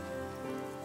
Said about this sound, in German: Ich glaube, das ist das erste Mal, dass es regnet.